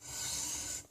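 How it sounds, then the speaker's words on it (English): A hand file rasps once along a steel rifle barrel being drawfiled, one close, bright scraping stroke lasting under a second. "And then we are filing"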